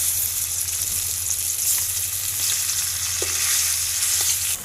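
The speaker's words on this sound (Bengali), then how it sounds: "তেলের ওপর দিয়ে দেবো কালো জিরে," Flat beans (sim) frying in hot oil with black cumin, a steady, close, loud sizzle with a few faint stirring taps, no talking.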